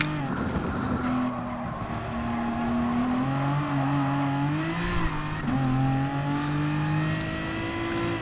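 Race car engine from a racing video game drones steadily throughout, its pitch rising and falling smoothly with shifts, loud and continuous with no talk over it.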